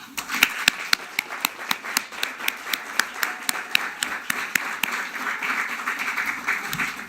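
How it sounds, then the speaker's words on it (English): Graduates applaud while standing at a university graduation ceremony, a few loud sharp individual claps standing out in a regular rhythm over a softer broad patter of clapping, with faint voices beneath. "And join me in a round of applause."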